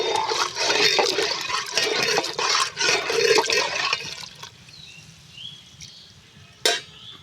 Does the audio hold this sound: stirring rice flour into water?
yes